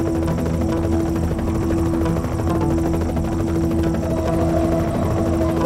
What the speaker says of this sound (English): that helicopter is heavily armed.